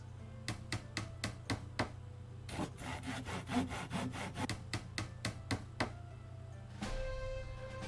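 Construction sounds from building with a hammer in a crafting video game: a quiet series of rhythmic wooden knocks and rasping strokes. Quick regular hits come first, then a denser scraping passage and another run of even strikes.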